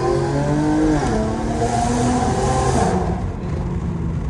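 An Infiniti G37 with a leaking exhaust gasket drives through a tunnel, its loud engine drone rising and falling in pitch with throttle, echoing off the walls and easing slightly toward the end, with no talking.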